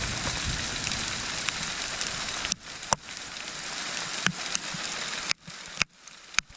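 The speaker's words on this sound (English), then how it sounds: "So we got a hailstorm, thunder and lightning now." Heavy rain and hail drum steadily on a surface during a thunderstorm in Algonquin Park, punctuated by sharp individual impacts, with a few quieter gaps toward the end.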